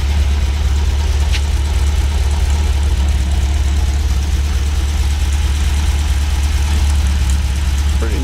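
An old MG sports car with original Lucas headlights idles steadily at close range for several seconds, a low even rumble with a slight puff from a small exhaust leak at its low-hanging, dragging muffler.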